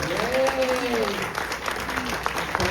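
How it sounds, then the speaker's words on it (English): Audience applause at a film anniversary Q&A for Pump Up the Volume, clapping spread through a cinema crowd while a voice speaks and whoops over it. "Give yourselves a round of applause."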